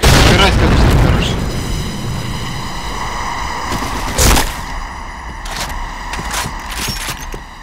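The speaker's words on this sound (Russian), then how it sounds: "Граната!" A grenade explodes in the Point Blank shooter game with a loud, rumbling boom that slowly fades, followed by a sharp blast and scattered shots beneath steady game noise.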